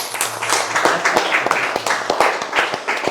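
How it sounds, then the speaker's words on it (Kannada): An audience applauds a speaker with a burst of hand claps, several distinct sharp claps standing out over the steady patter at close range. "ಸರ್ಗೋಸ್ಕರ ಒಂದು ದೊಡ್ಡ ಚಪ್ಪಾಳೆ."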